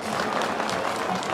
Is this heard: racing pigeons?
no